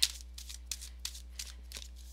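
Tarot cards being shuffled by hand, a series of crisp, papery riffling bursts repeating at a steady rhythm, close and fairly soft, with no talking.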